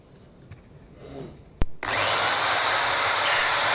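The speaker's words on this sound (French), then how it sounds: "Et nous voici à la phase du ponçage." A power sander starts up on small wall cladding tiles after a sharp click, then runs as a steady loud whirring grind close by, following a few quiet handling sounds.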